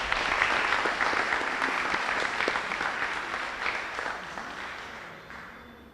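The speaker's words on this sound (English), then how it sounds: "Give him a round of applause." Audience applause after a history lecture on Barbados in the 1920s and 1930s: steady, dense clapping from a seated crowd that holds evenly for several seconds, then thins and fades toward the end.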